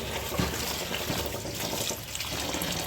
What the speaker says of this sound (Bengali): এরপর ভালো করে পানি দিয়ে ধুয়ে পরিষ্কার করে নেবেন।